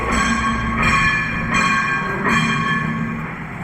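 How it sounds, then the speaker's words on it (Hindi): A school bell rings loudly in a classroom to mark the seventh period, a continuous metallic ringing that holds steady for several seconds with slight pulsing and no voices over it. "कितनी घंटियां लगी हैं? ये 7वीं घंटी है।"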